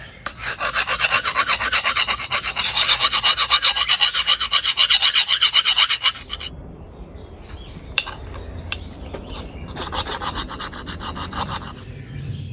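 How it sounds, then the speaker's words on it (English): A blade is honed on a sharpening stone with loud, close, rhythmic rasping strokes for about six seconds, followed by quieter scraping and handling noises with a second burst of strokes near the end. "So this stone here helps to sharpen this blade."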